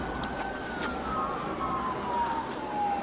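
A distant ambulance siren wails in a faint, drawn-out tone that slowly falls in pitch, heard over steady outdoor background noise with no clear talk.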